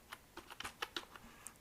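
Soft, quick clicks of typing on a computer keyboard, irregular keystrokes close by and fairly quiet.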